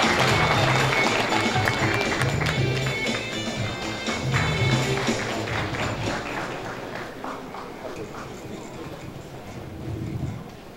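Audience clapping at a book launch event in a hall, a dense, sustained patter of many hands that is loud at first and gradually thins out, with a short renewed burst near the end.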